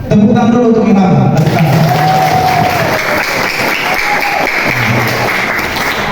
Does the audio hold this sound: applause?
yes